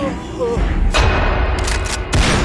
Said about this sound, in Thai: เสียงปืนดังสนั่น ลูกกระสุนทะลุร่างของผีโพง